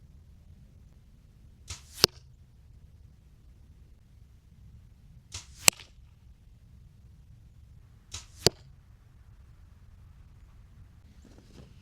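Three arrows shot from a bow at 27 yards, released one after another at spaced intervals, each a quick swish ending in a sharp thwack, against a quiet outdoor background.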